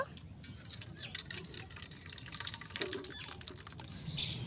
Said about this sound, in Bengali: এখন গামলার মধ্যে ঢেলে নেব।